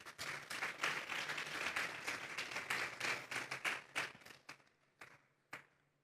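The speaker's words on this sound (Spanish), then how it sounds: "Den un fuerte aplauso pues al Señor." A church congregation applauds: a burst of many hands clapping builds quickly and sustains, then thins into scattered individual claps that fade out over several seconds, with no speech.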